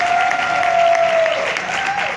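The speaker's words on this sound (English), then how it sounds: "Please do a round of applause for Joy." Audience at a women's business summit panel gives a short burst of even, energetic clapping that holds steady and starts to fade at the end, heard alone without speech.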